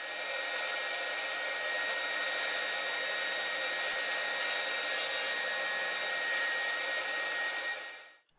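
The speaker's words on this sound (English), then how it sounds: "here I'll use the table saw sled to trim down the sideboards to their final dimensions" A table saw with a crosscut sled trims reclaimed wood sideboards to final size, giving one steady, loud whine that runs continuously for about eight seconds before spinning down at the end.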